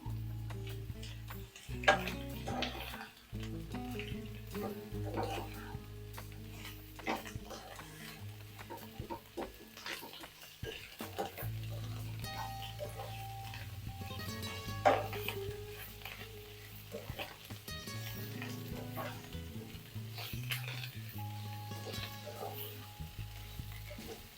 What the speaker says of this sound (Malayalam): നല്ലതുപോലെ വഴറ്റിയെടുക്കണേ